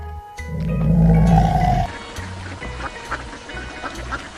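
A muscovy duck makes a run of short, low, evenly spaced calls after a loud rough roar fades out at the start, heard close with no speech.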